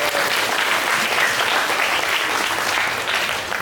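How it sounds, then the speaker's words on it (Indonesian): Loud, close audience applause at a religious Maulid gathering, a dense continuous burst of clapping from a large crowd. "Tepuk tangan untuk kita semua."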